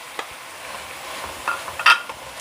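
Chopped carrots and long-cut capsicum are stirred in a pan, giving a soft low sizzle broken by a few light scraping clatters of a spoon, close and without speech.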